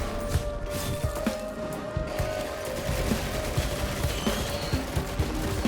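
Rapid gunfire rattles through a Risk of Rain 2 fight, dense repeated shots overlapping with other combat noise in a steady busy stream, fairly loud throughout and no voices.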